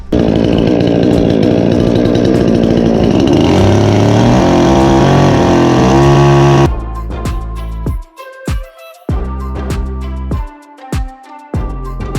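A loud motor saw runs steadily, then bites in short bursts with brief pauses between cuts, its engine note rising and dropping as it chews through roofing boards.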